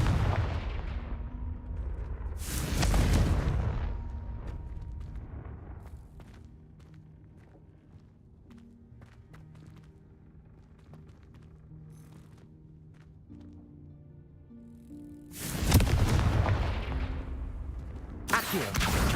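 A Confringo explosive spell goes off in Hogwarts Legacy, two loud booming blasts at the start and end with a quiet stretch of soft game music between them.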